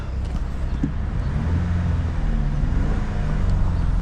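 A 2012 Chevy Impala engine idling just after it starts, a low, steady rumble heard from close by with no talking.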